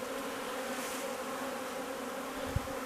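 Honeybees in spring at snowy northern hives near blossoming willows, a steady close droning buzz that holds evenly throughout, with a faint soft knock near the end.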